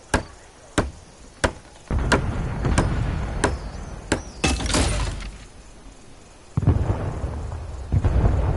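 A mortar in the WWII shooter Hell Let Loose fires a quick series of sharp, loud reports, about a dozen thumps at uneven intervals, some followed by rumbling blasts.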